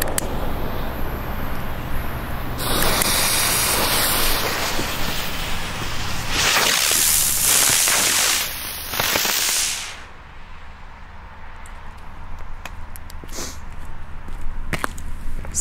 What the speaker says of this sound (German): fetziger Feuerwirbel.